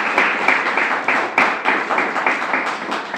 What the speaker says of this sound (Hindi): उस मां के लिए ताली तो बजाओ कम से कम